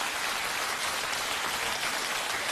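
Studio audience applause on a television talk show, a steady, dense wash of clapping that holds even and loud without a break.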